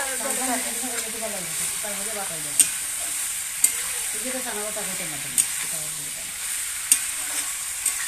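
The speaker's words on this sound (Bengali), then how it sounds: "ভালোভাবে নেড়ে ছেড়ে দিয়ে আর আলুটা একটু করে দেবো" Meat curry with potatoes is stirred in an iron wok over a clay stove: a constant sizzle with a sharp scrape of the ladle every second or so, while a person talks over it.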